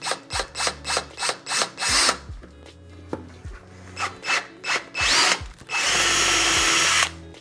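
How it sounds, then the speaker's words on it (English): A power drill whirring in repeated short bursts, close and loud, followed by a longer continuous grinding run near the end. "be very precise about your drilling"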